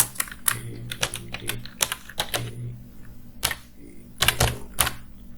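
Python code being typed on a computer keyboard, a run of sharp clicky keystrokes in irregular bursts with short pauses, close and clear over a quiet background hum.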